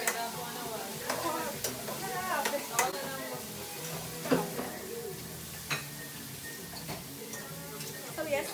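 Onions, garlic and peppers fry in a home kitchen pan, a soft sizzle with scattered clicks and taps of stirring utensils, quiet under intermittent talking.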